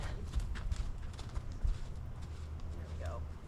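A horse moves about during a ground training exercise, with a few dull hoof thuds over steady low outdoor rumble, a faint bird call near the end and soft voices in the background.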